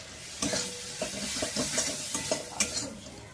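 Ginger-garlic paste frying in a pan for mutton liver curry, with a soft steady sizzle broken by a series of spoon scrapes and stirring knocks against the pan, close by.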